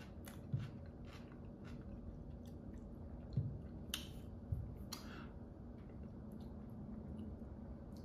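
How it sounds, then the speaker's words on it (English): Close, crisp crunches of celery being chewed in potato salad, a few sharp bites scattered over quiet, low-level background. "I'm crunching celery."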